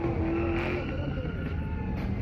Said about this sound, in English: he watched this parking lot in East San Jose fill up with cars doing stunts